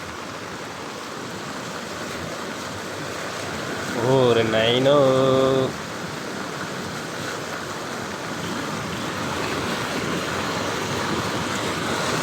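Flood water rushes through a stream in Sai Nagar, Anantapur, after heavy rain, a steady broad roar that continues throughout, with a man's brief exclamation standing out over it in the middle.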